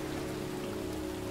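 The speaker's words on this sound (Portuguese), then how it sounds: "Chove cântaros" Heavy rain pours steadily over a cemetery in the video game Heavy Rain, a dense, constant hiss with a low droning hum beneath it, no voices present.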